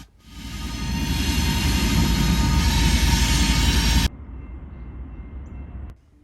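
CSX freight train with a GE locomotive leading three EMD units, a loud sustained rumble and roar of rolling cars close by that cuts off abruptly, leaving a quieter low background.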